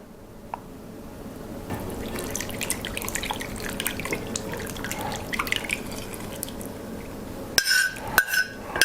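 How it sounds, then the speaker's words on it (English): Warm liquid suet mixture is poured from a vessel into a bowl of dry ingredients, a soft trickling stream with light drips building over several seconds before a few sharper clinks of the bowl at the end. "now I'll pour this warm liquid mixture in"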